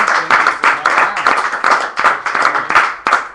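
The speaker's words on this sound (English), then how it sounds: "let's give another round of applause to Mark" A small group claps at a Hand-Eye Supply Curiosity Club meeting, a brief round of distinct, closely spaced hand claps that sound near and fairly even in rhythm, with no talk over them.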